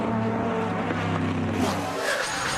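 Corvette GT1 race cars lapping at Petit Le Mans endurance race, a loud continuous engine roar with harmonic drone that shifts pitch as a car passes near, no voices.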